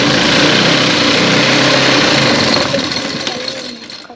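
A sewing machine stitches a straight seam on a round neckline of a kameez, giving a loud, close, steady mechanical whir that winds down near the end.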